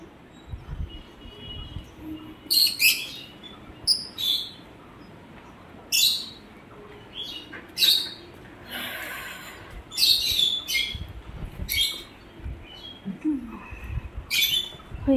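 Pet birds chirp and tweet in short bursts while being fed boiled egg mixed with rice, bright calls recurring every second or two over a low, steady background rumble.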